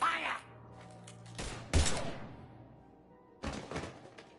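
Bursts of gunfire in the Mass Effect 3 video game, a couple of loud broadband volleys around a second apart, then another burst after a quieter stretch, with a low steady hum beneath.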